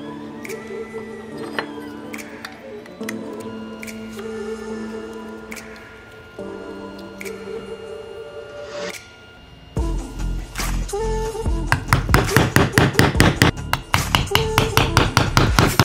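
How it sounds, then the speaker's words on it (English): Center punching holes in the outside arms of a 3D-printed DSLR gimbal: a series of sharp metallic taps and clicks that turn into a dense, rhythmic run of hard strikes near the end, close and loud. "For the outside arms, we need to center punch some holes."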